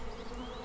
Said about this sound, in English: bees will typically leave you alone as long as you leave them alone